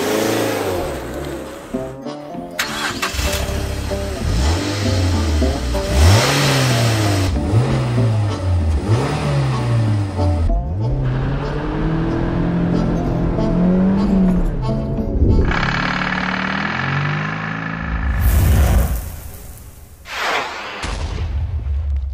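A 2006 Mazda MX-5 engine revs up through repeated gear changes, its pitch climbing and dropping in a steady rhythm, loud and close, with a brief burst of wind or road roar near the end and no talking.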